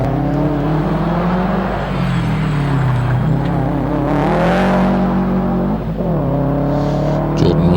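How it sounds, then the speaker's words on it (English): A Subaru WRX STI race car works around a hillclimb hairpin, engine droning then rising as it accelerates out, with a short lift and another climb near the end, heard at moderate distance under steady background noise. "Jordan Rolack in the Subaru WRX STI making his way around the hairpin"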